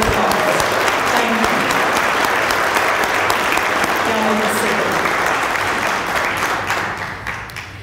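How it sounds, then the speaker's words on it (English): Loud, sustained applause from a banquet audience at a volunteer appreciation dinner for city boards and commissions, dense steady clapping filling the room for several seconds before tapering off. "Let's give these fine folks a wonderful round of applause."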